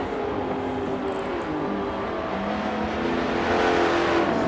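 A race car in Forza Motorsport 7 drives at Circuit de Catalunya, a continuous engine drone with rising and falling harmonic tones as it shifts and accelerates down the back straight, loud and alone with no talk.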